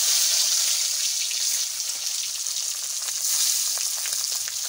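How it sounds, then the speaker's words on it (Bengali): Pangasius fish frying in hot oil, a dense, bright crackle of spattering that stays loud and steady throughout, with no talking. "পাঙাশ মাছ জম্মের ফোঁটা ফুটতেছে"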